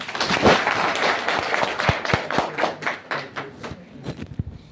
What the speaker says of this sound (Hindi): अपने सम्मान में एक बार ताली बजा लो बस